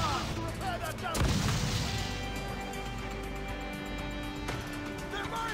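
Ship cannons firing in the naval combat of Assassin's Creed IV Black Flag, a heavy booming blast followed by sustained rumbling battle noise and game music.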